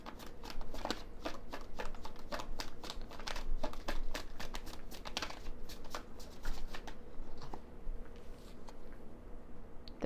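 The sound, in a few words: tarot cards being shuffled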